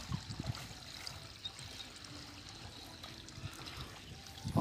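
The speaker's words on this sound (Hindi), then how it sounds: "अभी ये सबमर्सिबल है, ये पानी चल रहा है।" Water from a submersible pump runs out across rice paddy fields, a faint steady trickling and splashing flow outdoors, with occasional soft thumps and handling noises near the end.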